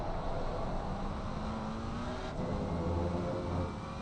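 A McLaren race car's engine drones steadily at Zandvoort in a racing video game, a continuous, fairly loud hum with a faint rising pitch as it speeds down a straight.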